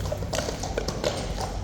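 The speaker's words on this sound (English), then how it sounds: "That was a really big cloppy horse." Heavy hooves of a very large Household Cavalry horse at Horse Guards clip-clop in a steady, close rhythm of distinct strikes against a noisy outdoor background.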